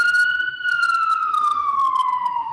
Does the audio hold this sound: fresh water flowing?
no